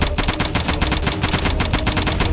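Rapid automatic gunfire in a short drama, a steady fast string of loud, evenly spaced shots that continues unbroken for a couple of seconds with no voices over it.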